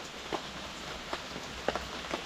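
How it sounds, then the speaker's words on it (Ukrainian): Rain falls steadily at a riverside fishing spot on the Southern Bug, a soft continuous patter with scattered louder drops tapping nearby, no talk. "Дощ не перестає."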